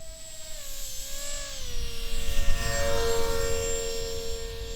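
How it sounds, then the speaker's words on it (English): A model ground effect plane powered by two 50mm electric ducted fans whines steadily, its tone sliding lower then settling into a loud, even high-pitched hum with airy rushing noise. "This model was powered by two 50mm electric ducted fans"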